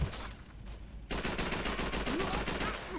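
Gunfire in the video game Call of Duty 3 on Veteran difficulty: after a quieter opening second, a loud, sustained burst of rapid shots runs to the end of the clip, with dense, overlapping reports.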